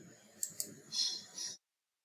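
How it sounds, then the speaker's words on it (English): A few soft computer mouse clicks while working in an Excel spreadsheet, two quick close clicks followed by a short stretch of light clicking and handling, then silence. "Now right click on cell, then click on format cell."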